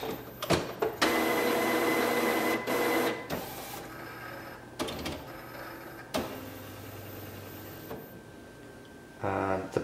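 An Epson WF inkjet printer fitted with a continuous ink system runs through a cartridge maintenance cycle, whirring and clattering loudly up close with motor hums, sharp mechanical clicks and knocks, and several pauses between bursts.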